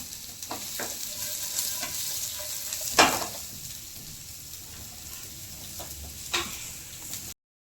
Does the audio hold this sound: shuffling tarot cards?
no